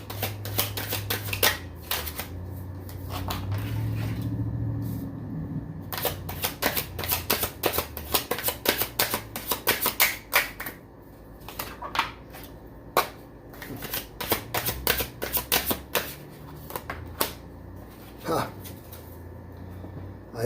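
Tarot cards are shuffled by hand in quick riffling bursts and soft slaps, close and crisp, with pauses between rounds and a voice speaking under parts of it.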